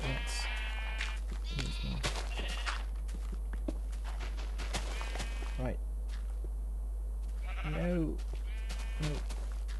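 Sheep bleating in the Minecraft video game, several short wavering calls scattered over a busy layer of footsteps and game sounds, with someone talking throughout.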